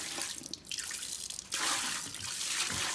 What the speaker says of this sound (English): So here I'm just dumping out the water.